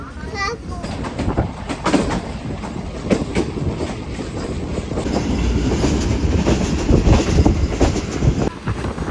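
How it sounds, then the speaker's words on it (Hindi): The Awam Express runs at good speed, heard from inside a refurbished coach as a steady loud rumble with rhythmic wheel clatter that builds slightly, while people talk nearby. "काफ़ी अच्छी स्पीड में ट्रेन आगे बढ़ रही है"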